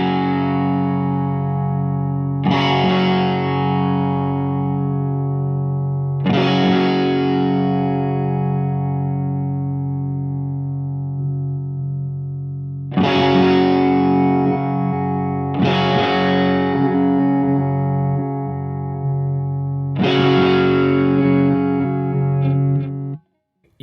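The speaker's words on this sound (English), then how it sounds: "You hear how it sounds kind of weird, nasally, kind of weird. That's the phase." Synth chords with a phase effect give a weird, nasal, sweeping tone, several sustained chords struck in turn, with no talk over them.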